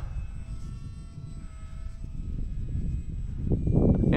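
UMX Turbo Timber Evolution RC model airplane flying, its steady electric motor whine holding at moderate distance and swelling louder toward the end as it passes closer.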